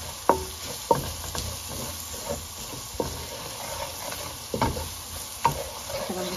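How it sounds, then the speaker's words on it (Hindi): A spoon scrapes and stirs garam masala, Kashmiri chilli and salt in a hot pan for a chicken chole dish, with a soft steady sizzle and sharp metallic clicks of the spoon against the pan at irregular intervals. "थोड़ा सा गरम मसाला और कश्मीरी लाल मिर्च, नमक अच्छी तरह पहले मिक्स कर लें इसको।"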